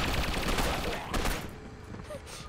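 Rapid automatic gunfire in Gotham City Impostors, a dense burst of close shots for about a second and a half that then drops to a quieter tail, with some voice underneath.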